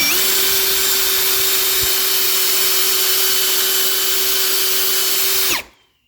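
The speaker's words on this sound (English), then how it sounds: "We're going to put this in reverse and drill this hole out in reverse." A power drill runs in reverse, backing a bit out of a hole while a door safety strike plate is being installed: a loud, steady whine held for several seconds before it winds down and stops.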